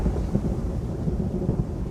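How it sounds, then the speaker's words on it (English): Story sound effect of a tempest at sea: a thunderstorm with wind and rain as a steady, dense low rumble with crackling rain texture, loud and continuous throughout without any voice. "Ariel goes to the ship and makes a tempest, with wind and rain"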